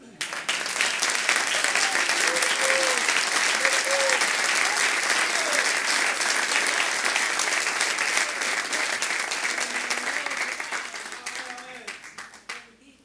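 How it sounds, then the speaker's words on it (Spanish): Church congregation bursting into loud, sustained applause that stays dense for about ten seconds before fading, with a few scattered voices and faint tones underneath. "Un aplauso, hermano."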